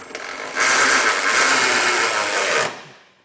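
A power tool whirs loudly for about two seconds while snugging down bolts on a Curt Class III trailer hitch on a 2024 Nissan Rogue, then spins down and stops.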